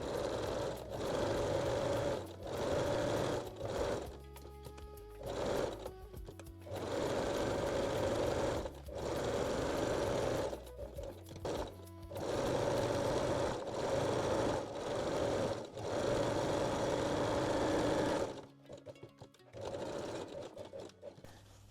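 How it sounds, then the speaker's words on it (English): A sewing machine stitches fold-over elastic on bralette underarms in repeated short bursts of varying length with brief stops between, close and fairly quiet, finishing with a longer run and a pause. "Fold the fold over elastic and stitch the underarms again."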